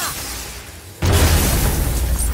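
A sudden loud boom bursts in after a quiet rumble, followed by a sustained roaring wash of noise, from an explosion in the video game God of War (2018).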